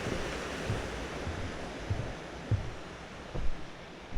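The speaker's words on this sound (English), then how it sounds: "Most likely that's the water coming draining down out of the lakes up above." Water draining down from lakes above on a mountain trail to Bedwell Lake, a steady rushing roar like a stream or falls, with light wind buffeting and a few soft knocks over it.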